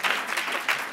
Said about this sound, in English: So, of course, applause.